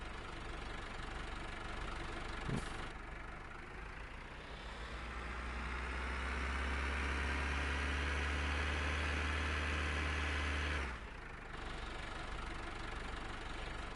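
A tractor engine idles in the Farm sim video game with a steady low mechanical drone that swells in loudness through the middle and then drops back, with a brief click near the start and no talk.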